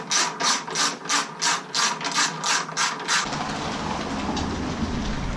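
Hand ratchet running bolts down on a twin turbo Mustang, about ten rhythmic, close clicking strokes over three seconds, then a steadier whirring, rumbling noise takes over.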